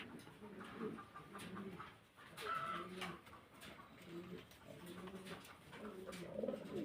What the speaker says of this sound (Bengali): এগুলো সব রানিং কবুতর